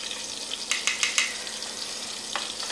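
Shrimp fry in hot oil with a constant bright sizzle, broken by a few sharp crackling bursts in quick succession and one more pop a moment later.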